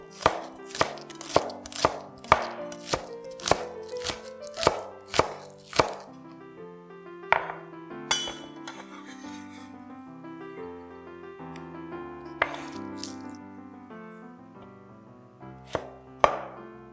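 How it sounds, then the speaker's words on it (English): A knife chops green onion tops for garnish on a cutting board, a fast run of crisp, close taps at the start, then slower scattered cuts over a busy background of cooking sounds. "Cut up the green parts and set them aside for garnishing."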